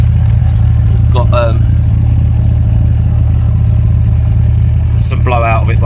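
A VW 16-valve ABF engine idles in a garage with an exhaust blowout, giving a loud constant low rumble with a ticking clatter, while brief squeaky sounds cut in twice over the drone.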